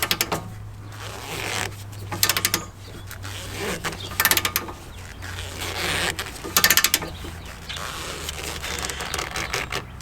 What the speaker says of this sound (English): Torque wrench on your castle nut, and you should torque it to 160 foot-pounds.